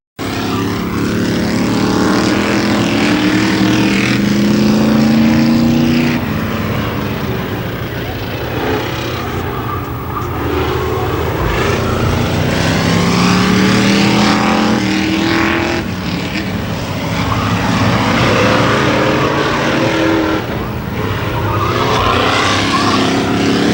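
Race cars run three wide through the north turn at Kil Kare Speedway during the 1993 Memorial Day Championships, their engines roaring loudly and continuously as packs sweep past, with an announcer talking over the din.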